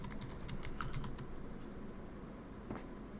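A password being typed on a computer keyboard: a quick run of close, crisp key clicks in the first second, then quiet room tone with one more faint keystroke near the end.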